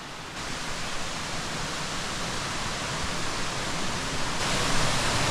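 Erawan Falls waterfall in Thailand, a continuous broadband roar of rushing, splashing water, steady and loud throughout with no talking.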